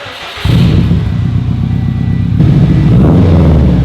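Subaru WRX with a newly installed aftermarket exhaust fires up: after a brief cranking sound, a loud, deep, steady idle rumble takes over and swells slightly as it settles.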